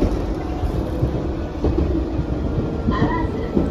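A Keihan electric train, a 1984-built car, rumbles past the JR line near Ishiyama Station, a loud continuous rolling roar with rhythmic wheel clatter and a brief higher squeal near the end.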